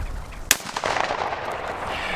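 A single sharp shotgun blast cracks out during a California quail hunt in brush, loud and close, followed by a lingering rustle and faint outdoor ambience.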